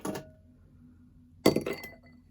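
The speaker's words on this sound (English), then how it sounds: "And we will finish that off with 2 or 3 ice cubes, depending on maybe how warm it is outside." Ice cubes drop into a glass for a Negroni cocktail, producing two sharp, bright clinks about a second apart, each with a brief ringing tail, in a quiet room.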